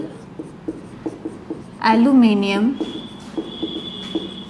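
During a chemistry lecture, writing on a board produces a string of light taps and scratches at an uneven pace, with a short burst of a voice partway through.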